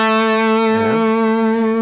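An electric guitar with effects plays a whole tone scale lick over D, a sustained distorted tone with a quick bend in the middle, loud and alone.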